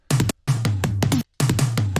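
Layered drum fill combining Logic drums, 909 and 808 toms and big orchestral percussion: three punchy bursts of rapid tom hits separated by short silences, loud and dry.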